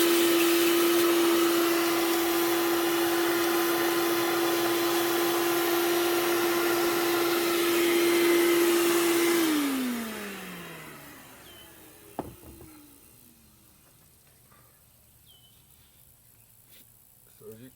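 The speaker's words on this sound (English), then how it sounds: "vacuum them out, clean up my dust a little bit." A shop vacuum steadily sucks dust out of drilled holes in a hollow concrete block wall, its loud whine running for several seconds before it switches off and winds down, leaving a few faint knocks.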